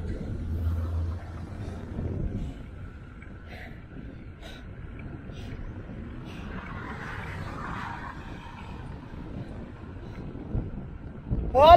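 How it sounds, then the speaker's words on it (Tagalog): Gentle wind brushes and rumbles at the microphone, fairly faint and steady, with occasional soft gusts in a quiet outdoor setting. "Alhamdulillah may hangin."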